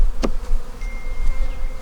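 Honey bees buzz around an open hive in Georgia during spring flow, a loud close drone with individual bees zipping past the listener.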